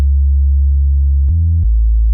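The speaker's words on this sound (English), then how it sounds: "the sub, which is just this operator patch, which is really just a sine wave" Sub bass from an Ableton Operator synth patch, a pure sine wave playing sustained low notes that step in pitch a few times, loud and alone with no voices.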